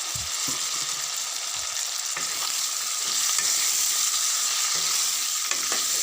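Steady frying sizzle of pigeon meat as cut potato pieces are stirred into the hot pan, with occasional scrapes and clatter of the spatula; close and continuous, no voices.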